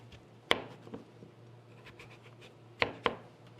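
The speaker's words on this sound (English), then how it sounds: "I'm gonna just cut into slices this way." A knife cutting winter squash into slices on a cutting board: a few sharp, close thuds of the blade striking the board, spaced irregularly over faint scraping.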